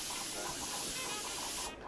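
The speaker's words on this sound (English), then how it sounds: "I'm going to spray the Argan oil" Argan oil misted from a spray bottle in a continuous hissing spray of a little under two seconds, close and loud, cutting off abruptly at the end; no talking.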